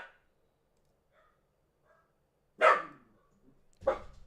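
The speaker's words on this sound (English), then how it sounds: "The dog is barking." A dog named Maxie barks twice indoors, two sharp separate barks about a second apart after a quiet stretch with faint small noises.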